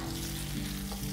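Milanesa frying in a pan gives a short, steady sizzle with no speech.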